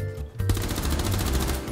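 Rapid bursts of video game gunfire crackle in quick succession, loud and dense, with no voices.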